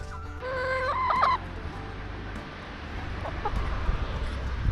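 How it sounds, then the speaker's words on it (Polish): Free-range Polish Greenleg chickens cluck in a garden, a short burst of rising, stuttering calls near the start, then fade into low outdoor rumble with faint scattered sounds. "Kury wtargnęły do ogródka."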